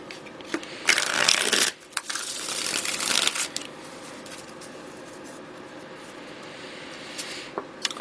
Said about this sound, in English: One more shuffle for Scorpio and all those who love Scorpio